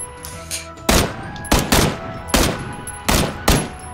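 Gunshots in the video game PUBG, five loud, sharp reports spaced roughly half a second apart, each trailing off quickly, over quieter ambient game sound with no talk.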